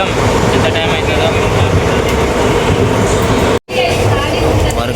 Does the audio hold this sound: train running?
yes